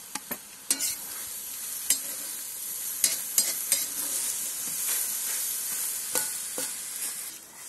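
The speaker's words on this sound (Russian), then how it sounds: "Все вместе обжариваем." Beef and onion sizzle in a cauldron over a campfire, a continuous loud frying hiss broken by sharp metallic scrapes and knocks of stirring at irregular intervals.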